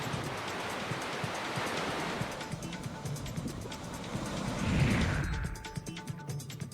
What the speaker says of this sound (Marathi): धबधबा मोठ्या प्रमाणात वाहताना दिसतोय